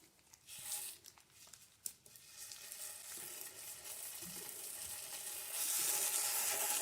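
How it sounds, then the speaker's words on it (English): Sausage sizzles and crackles in a hot frying pan, a steady hiss that grows louder near the end. There is a few faint clinks and scrapes, and no talking. "You can hear that sizzle happening."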